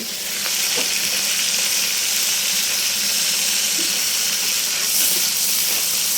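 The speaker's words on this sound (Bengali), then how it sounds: "দেখছেন আলু ভাজি করতেছি।" Potatoes fry in hot oil with thick-cut onions, making a steady, bright hiss and sizzle with occasional faint pops, close up and continuous, with no talking.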